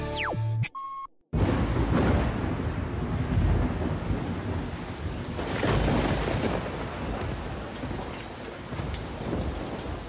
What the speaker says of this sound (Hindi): ये बारिश तो रुकने का नाम ही नहीं ले रही